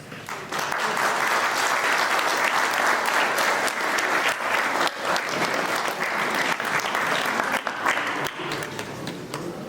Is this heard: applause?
yes